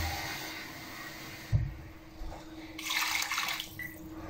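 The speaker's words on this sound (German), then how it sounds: "Und das Ganze fülle ich dann noch auf mit Wasser." Tap water runs into a container in a home kitchen while a dish of duck breast with red cabbage and dumplings is being made. A brief thud comes first, then a steady, moderately loud rush of pouring water with no talk.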